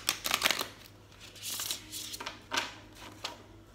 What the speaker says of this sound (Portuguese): Vou embaralhar bem.